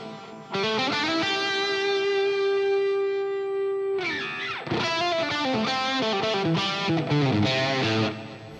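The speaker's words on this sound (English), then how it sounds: "I want to add the delay that's sort of like an effect" Electric guitar-like tones with a delay effect on an audio track in Fender Studio: a long sustained note rings out with repeating echoes, then a flurry of quicker echoed notes, loud and with no talking.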